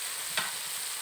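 Salted soya bean paste stir-fried in a pan gives a steady, close sizzle with one short scrape of stirring partway through, and no voices.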